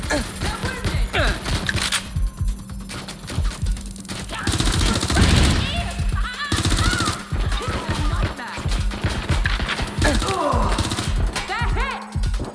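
Rapid bursts of automatic gunfire and single shots crack through a shootout in Watch Dogs: Legion, dense and loud, with shouted voices between volleys.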